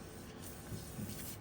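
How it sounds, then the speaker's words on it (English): Cleaner sprayed onto a bus's battery terminals, a soft steady hiss lasting about a second and a half, close and quiet with no talk. "Spray the whole thing, each of them."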